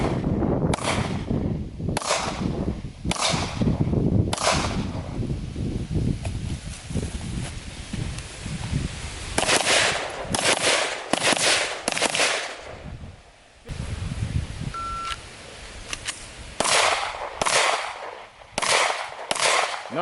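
Rapid gunfire rakes a Lamborghini bumper as several shooters fire, with sharp cracks in bursts and strings of single shots separated by short pauses, loud and close, with no talk over the shots.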